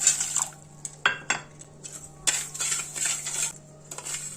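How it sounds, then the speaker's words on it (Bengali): A metal spoon stirs water into sugar in a bowl to make a hair-removal mixture. Bright, close clinks and scrapes come in irregular bursts against the bowl, with short quiet gaps between them. "জলটা আমি মিশিয়ে দেব"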